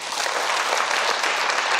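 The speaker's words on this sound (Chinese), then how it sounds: "来，鼓掌一下。" Audience applause at a lecture hall talk, a dense, steady clapping that fills the whole short stretch without pause or voices.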